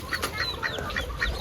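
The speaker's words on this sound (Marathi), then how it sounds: "आणि कोंबड्या," Hens cluck at a farmyard in a repeated, fairly steady pattern of short calls, mid-distance and moderately loud, with a little background noise.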